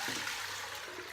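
Eight cups of water pouring into a pot, a continuous close splashing rush with no break for the whole second.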